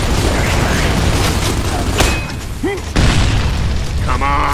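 A bomb goes off in a Gears of War 3 team deathmatch on the Hotel map, a loud boom inside dense, continuous battle noise with mechanical clatter and a short whistling sweep.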